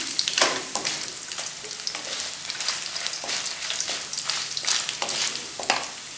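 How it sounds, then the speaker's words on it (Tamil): Green chillies fry and get sautéed in hot oil for an ajwain-leaf thokku, producing a continuous crackling sizzle with irregular sharp pops and stirring sounds, close and fairly loud. "மிளகாய் நல்லா வந்து பொரிச்சு விட்டு அதுலேயே போட்டு எல்லாத்தையும் வதக்கணும்"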